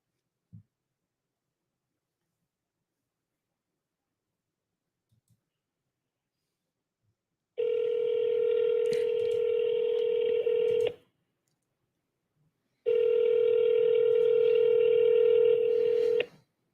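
A phone call rings out in two long, steady electronic ringback tones with a pause between them, loud and close, after a few faint clicks at the start.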